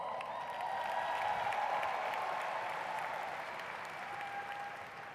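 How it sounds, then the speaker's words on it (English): A live audience applauds Thomas at an Atlantic City training event, a steady dense wash of clapping that stays loud and even throughout, with no talking over it. "Let's give Thomas a round of applause."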